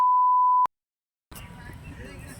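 A censor bleep, a single steady pure electronic tone lasting about two-thirds of a second, loud and alone, followed by silence and then talk.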